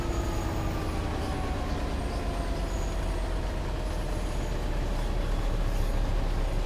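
Class 66 diesel locomotive accelerating in Train Sim World 5, giving a loud, steady engine rumble with a faint rising whine above it, continuous and close throughout with no voices.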